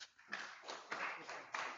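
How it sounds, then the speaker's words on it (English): Faint, scattered clapping from participants at the close of a local peace platforms stakeholder workshop, coming in a few short uneven bursts rather than a full ovation. "Clap for yourselves."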